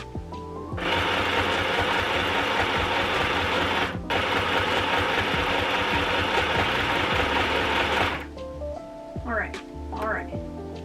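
A home sewing machine runs in two long steady stitching bursts broken by a brief pause, then stops; quieter fabric handling and small clicks follow.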